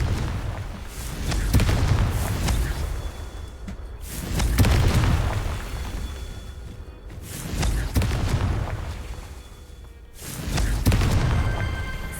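Confringo blasting spell in Hogwarts Legacy going off as deep, booming explosions, four heavy blasts spaced about three seconds apart, each swelling and rumbling out before the next, with no talk.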